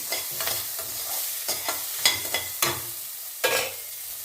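Pumpkin pieces sizzle gently in a pan while a spoon scrapes and stirs in irregular strokes, close and fairly soft.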